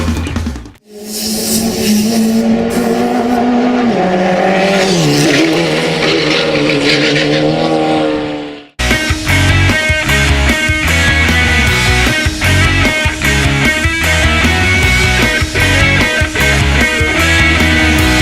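A Nissan GT-R sports car at speed on a track-driving experience, its engine roaring loud and close with shifting pitch, then a sudden cut to a denser, steady engine drone full of rapid pulses.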